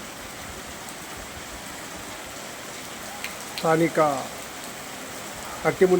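Steady rain in Banaganapalle hisses continuously throughout, with a person briefly speaking twice over it.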